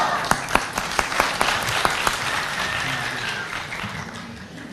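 An audience at an opening ceremony bursts into loud applause, dense overlapping clapping with a few sharp near claps at the start, holding steady and then easing off slightly toward the end.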